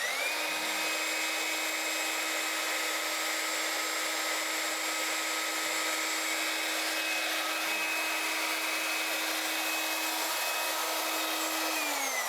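An electric saw runs at a steady whine with no load, a constant hum holding its pitch for about ten seconds before spinning down near the end.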